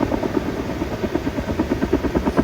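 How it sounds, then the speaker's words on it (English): A helicopter passes over a spring mountain landscape in the Jungfrau region near Wengen, its loud, steady rotor chop pulsing rhythmically throughout with no voices present. "The mountain idyll is disrupted by the loud noise of a helicopter."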